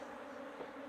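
Honeybees buzzing around an open hive during swarm division, a faint, continuous droning hum that holds steady throughout with no voices.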